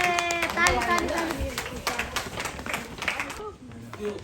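Hands clap in a lively family Secret Santa gathering, quick sharp claps from several people that come and go, mixed with chatter and children's voices close by.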